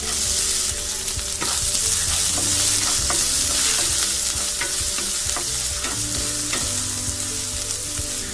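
Onion sizzles and fries steadily in hot oil with curry leaves, coriander, cumin and mustard seeds, with occasional stirring clicks and no voices.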